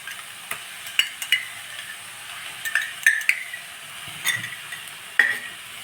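Cooked toor dal is stirred into a pan of greens stir-fry, soft scraping and light sizzling broken by sharp spoon clinks against the pan at irregular intervals, close and moderate in level.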